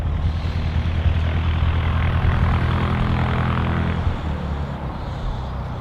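A 65-year-old propeller aircraft runs its engine during pre-flight checks at Manchester City Airport, giving a loud, steady piston drone with a throbbing low growl. It holds level for several seconds, then eases back slightly, with no voices.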